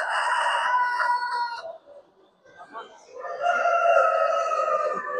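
Hens and roosters at a poultry show crow and cluck loudly nearby, with two long crowing calls separated by a brief quieter gap of softer clucking.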